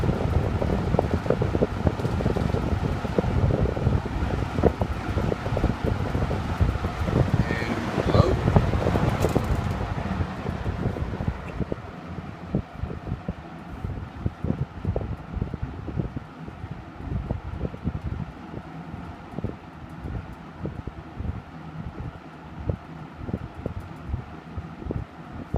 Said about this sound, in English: these are more powerful than a lot of standard metal bladed box fans